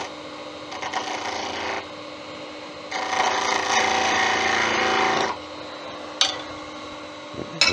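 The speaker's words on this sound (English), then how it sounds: "Do another slight cut top of that one." A woodturning tool cutting a wooden sword prototype on a lathe, giving close scraping, rasping passes of varying length, louder in the middle stretch, with a few sharp knocks toward the end.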